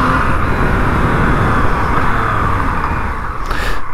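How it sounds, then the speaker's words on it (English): Engine of a 2020 Yamaha MT-09 motorcycle with stock exhaust droning loud and steady while riding on the road, with a brief shift in tone near the end. "Engine sounds so fucking good. Even the stock exhaust doesn't sound too bad."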